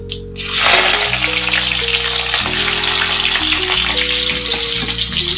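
Garlic dropped into hot oil in a pan for avarakkai kuzhambu, a sudden loud sizzle that swells after a brief quiet start and then holds as a strong, steady hiss with a constant droning hum underneath.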